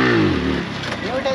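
Yamaha R15 V4 motorcycle engine revving hard close by, a rising rev that drops back to a rough idle, with a voice speaking briefly near the end.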